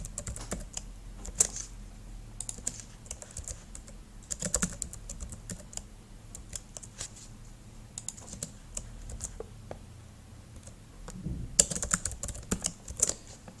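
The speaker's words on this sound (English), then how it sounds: "So you can sell this to your customer by typing it in here." Soft, irregular keystrokes on a computer keyboard, close and fairly quiet, with a denser burst of typing toward the end.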